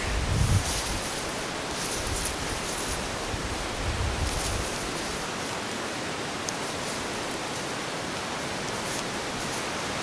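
Wind blows outdoors on a cold day around minus five, a steady broadband rush buffeting the microphone with a few stronger low gusts near the start, no voices.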